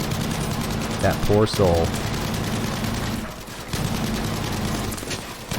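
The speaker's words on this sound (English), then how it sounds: "I shoot him with the cannon" Tank cannon and gunfire from Battlefield V, with a Sherman tank engagement, crackle in bursts over a constant engine drone, with someone talking briefly partway through.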